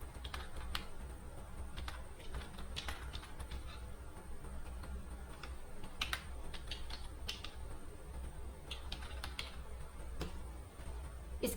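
Typing an email address on a computer keyboard, a quiet, steady run of close key clicks in irregular bursts with brief pauses, heard alone with no speech.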